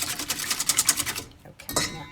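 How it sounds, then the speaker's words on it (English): Whisking evaporated milk and an egg together in a bowl for rice pudding gives a fast, even run of light clicking strokes that stops briefly and then resumes. "I'm going to whisk this all together."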